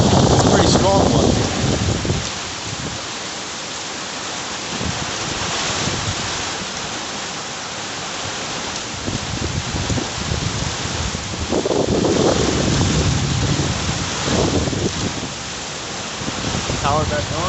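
A strong wind storm roars steadily with rain pelting outdoors, gusts swelling and easing in loud, continuous broadband rushes.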